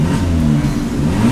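Modified Suzuki Ignis Sumo R engine revving close by, a steady throaty mid-range drone with slight pitch rise through a short blip.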